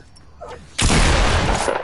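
Video game gunfire: a faint build-up, then an abrupt loud burst of rapid shots that stays dense and sustained.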